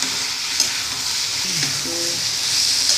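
Tomatoes, curry leaves and coriander sauté in a pan for a vegetable puli kuzhambu, a steady soft sizzle with occasional stirring scrapes, close and without speech.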